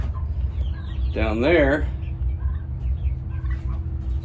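Chickens cluck close by in a backyard chicken coop, a loud warbling squawk rising over low rumbling noise, followed by softer scattered clucks while someone speaks briefly.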